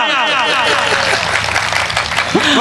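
An audience at a Hindi comic poetry recital claps in a dense burst of applause, with voices shouting and talking over it.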